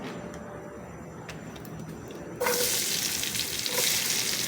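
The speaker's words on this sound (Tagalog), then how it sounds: "Sabay ko nang niluluto at ang bawang at sibuyas." Garlic, onion and chorizo frying together in a pan for chicken-and-sausage pancit bihon. A quiet stretch gives way midway to a loud, steady, close sizzle that carries on to the end.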